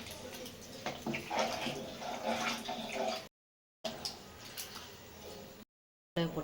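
Water pours steadily into a pot in two bursts, interrupted by a short silence, with faint splashing throughout, while cooking tomato rice.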